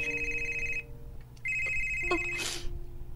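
A cellphone rings with a bright electronic tone that repeats, stops briefly, then rings again, loud and close, with a short rustling burst near the end and no talking.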